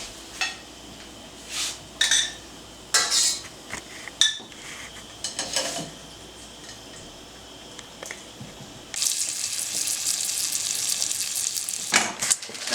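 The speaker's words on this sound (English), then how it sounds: "you have to get that wire whisk again" A wire whisk clinks and scrapes intermittently against a pan over a low sizzle while cooking scallops, followed by a steady loud frying hiss with a few more taps.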